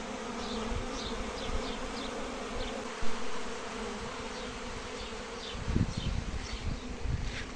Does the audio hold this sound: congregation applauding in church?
no